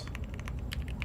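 Typing on a Bubble 75 mechanical computer keyboard with deep, thocky switches: a steady run of close, distinct keystrokes over a low background hum, with no voices.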